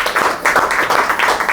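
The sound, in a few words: congregation clapping loudly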